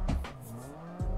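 A simulated drift car in the Assetto Corsa racing game revs hard, its engine note rising and falling, with a short tire squeal and a renewed throttle burst at the end, loud and close.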